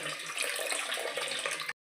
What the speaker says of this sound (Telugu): ఇందులోకి 2 గ్లాసులు వాటర్ పోసుకుందాము.